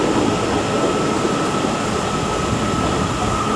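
A Northern class 331 electric passenger train rumbles steadily at Liverpool Lime Street with a constant broadband roar and a faint high tone, like a unit idling or moving slowly at a platform.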